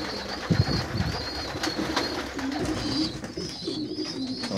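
Pigeons coo softly in repeated low phrases while a male feeds squabs, with light scuffling and a few sharp clicks nearby.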